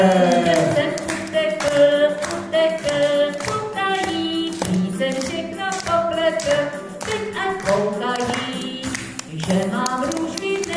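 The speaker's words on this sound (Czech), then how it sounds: "A tleskáme!" A children's song about a little devil runs with rhythmic hand clapping, claps landing on the beat alongside the singing and music throughout.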